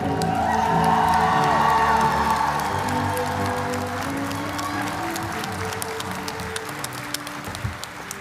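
A large crowd applauds graduates at a doctoral commencement ceremony, sustained dense clapping with a few cheers and whoops, loud at first and slowly fading toward the end.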